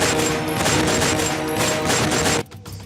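Dense, sustained gunfire sound effect of rapid overlapping shots, loud and continuous for over two seconds before cutting off abruptly into near silence.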